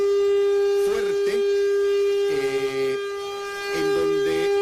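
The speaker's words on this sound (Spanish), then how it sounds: "ustedes escuchan la sirena, es una sirena muy fuerte" A loud civil defense siren wails with a steady, sustained tone throughout, while people talk faintly underneath it.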